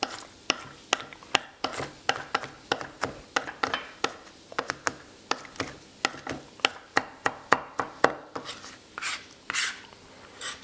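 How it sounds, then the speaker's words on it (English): Roasted poblano peppers being chopped with a knife on a cutting board, a steady run of close, crisp knife taps, some quick and clustered, with no talking. "Just chop them up."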